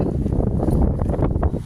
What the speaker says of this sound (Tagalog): Ito, lakas ng hangin.